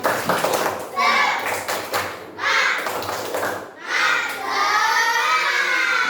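Primary school children in a fifth-grade maths class do rhythmic tepuk semangat clapping, bursts of group claps with children's voices chanting and shouting between them, loud and close.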